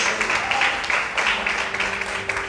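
Church congregation applauding during a sermon, sustained crowd clapping filling the space with a faint tonal hum underneath and no clear talk.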